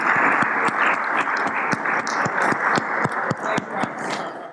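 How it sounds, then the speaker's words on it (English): A small group at a CEO summit claps steadily, with distinct sharp individual claps standing out in a continuous patter for several seconds, no voices over it. "How about a resounding round of applause?"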